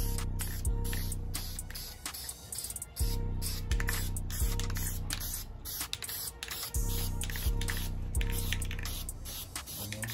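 Aerosol can of VHT paint spraying a Monte Carlo SS cowl panel, close hissing bursts in repeated passes of a second or two, with short pauses and faint clicks between strokes.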